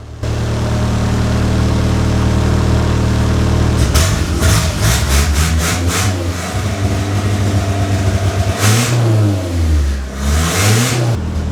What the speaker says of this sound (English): I'm gonna go rev the engine.